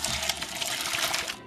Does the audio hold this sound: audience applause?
no